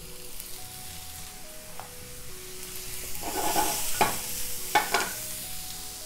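Chopped shrimp and freshly shucked clams fry with browning vegetables in a hot pan, a soft steady sizzle that swells as the food is stirred, with a few sharp scraping clicks of a utensil, no talking.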